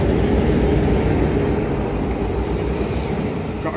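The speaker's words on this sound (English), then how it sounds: "Oh no, it's a train. Oh no. That's a diesel." A diesel locomotive rumbles past on the Worth Valley Railway, a steady, loud low-frequency drone that stays constant throughout with no clear peaks or breaks.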